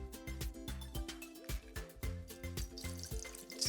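Tap water runs and splashes while a penny is rinsed under it, with irregular close splashing and dripping in short bursts, faint overall and with no talking.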